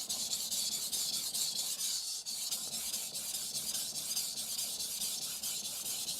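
A knife blade scrapes repeatedly across an ALTSTONE Fukami whetstone, making a steady, close, gritty rubbing with a fast back-and-forth rhythm. The sound comes alone, with no talking.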